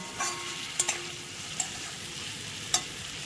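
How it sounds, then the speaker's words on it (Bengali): A lailontika fish curry base with turmeric and salt fries in a pan while being stirred, a soft continuous sizzle broken by a few sharp scrapes and clinks of the spatula. "আমি আরেকবার ভালো করে ভাজা ভাজা করে নিচ্ছি"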